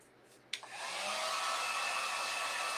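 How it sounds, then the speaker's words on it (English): A heat gun blows steadily while drying chalk paste sealer on a home decor craft piece. It starts with a sharp click at switch-on, then settles into an even, close, continuous whoosh that holds to the end with no talk. "I'm going to dry this a little bit with my heat gun"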